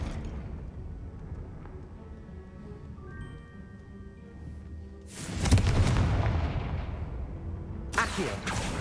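Confringo spell explosion in Hogwarts Legacy, a sudden loud booming blast after a quieter stretch, followed by a second sharp burst near the end.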